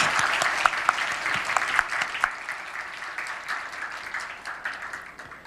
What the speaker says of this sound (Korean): 우리 이 시간 박수로 한번 축복하겠습니다